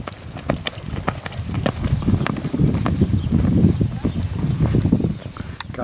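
Steady clip-clop of a Lusitano horse's hooves, rhythmic and fairly close, with faint voices in the background.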